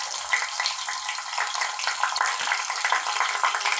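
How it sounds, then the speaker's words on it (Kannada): Ingredients for a homemade knee-pain oil fry in a pan, giving a steady, close, bright crackling sizzle that holds evenly throughout. "ಈ ಥರ ಎಲ್ಲ ಚೆನ್ನಾಗಿ ಫ್ರೈ ಮಾಡಬೇಕು"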